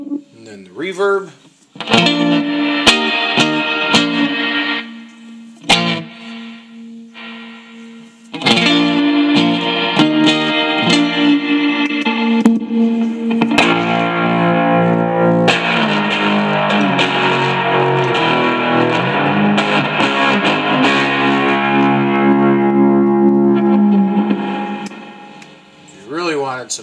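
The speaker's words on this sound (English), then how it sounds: "And then the reverb." Guitar through a Roland Micro Cube amplifier's reverb effect rings out with a spacious reverb tail, played in bursts with brief gaps, then a long sustained passage that fades away.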